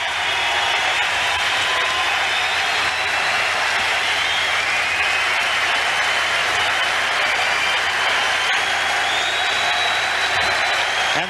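Arena crowd at Madison Square Garden applauding and cheering for hockey great Mark Messier, a loud, dense, unbroken roar of clapping that fills the whole stretch.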